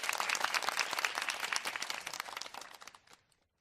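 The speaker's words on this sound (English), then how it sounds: "you definitely get a well-deserved round of applause" Dense burst of applause from a crowd, many hands clapping close and loud at once, holding steady before fading out to silence near the end.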